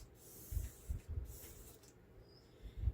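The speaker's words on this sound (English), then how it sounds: "I'm going to spray the little tops here before I even take them out." Mold release sprayed onto the tops of resin molds: several short, faint hissing bursts from a spray can at close range, with low thumps from handling, no talk.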